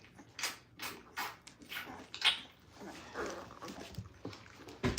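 Young Cane Corso puppies, about two and a half weeks old, whimper and squeal in a series of short, high, overlapping cries, close by and fairly soft, with faint rustling and a brief knock between the calls.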